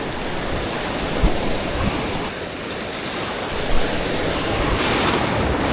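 Ocean surf washes against the rocky shore in north county San Diego, a steady broad rush of breaking waves with occasional louder surges, close and continuous with some wind buffeting the microphone.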